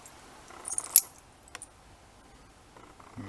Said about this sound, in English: And a cheap charm bracelet.